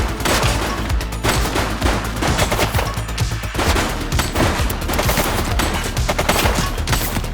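Gunfire in the police video game The Precinct: loud, rapid, sustained volleys of shots crackling close by almost without pause, dense and chaotic from start to finish.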